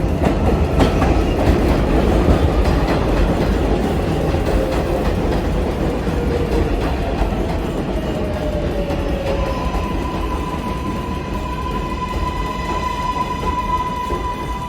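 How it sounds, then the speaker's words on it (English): A NYC subway 7 local train rolls into a station, loud and close throughout, with a steady rumble and clattering wheels that ease into a sustained high squeal and hum as it slows at the platform. "Here comes the train."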